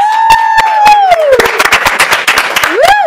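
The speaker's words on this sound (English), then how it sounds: "So let's have a round of applause. Let's celebrate this moment." A crowd at an election night watch party claps and cheers loudly and close, with sharp individual claps over a sustained roar, and a whistle rising and falling above it.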